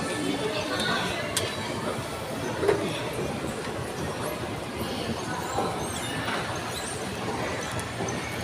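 Steady rumbling of a moving MRT metro train, with faint clattering and occasional squeals over continuous noise, and muffled voices in the background.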